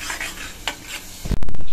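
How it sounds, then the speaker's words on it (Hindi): Masala for dal makhani, with milk added, tempers in a hot pan, giving a brief stirring sizzle before a loud clattering burst at the end. "और अब हम इस मसाले को तड़का लगाएंगे अच्छे से।"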